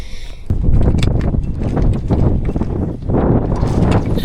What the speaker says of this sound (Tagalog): kahit na sobrang lamig talaga ng hangin at ang lakas pa